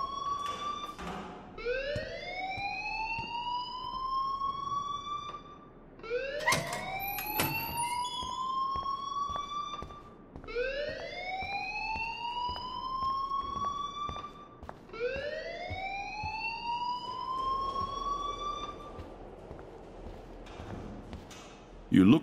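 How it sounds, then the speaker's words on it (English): An alarm in the video game Life is Strange wails in repeated rising sweeps, about four cycles with short gaps between them. It stays loud and continuous across the whole stretch. "please turn off that alarm since that's your job"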